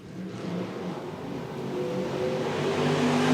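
Stock cars race at Stuart Raceway, a steady engine roar building in loudness as the pack passes, with sustained engine drone throughout.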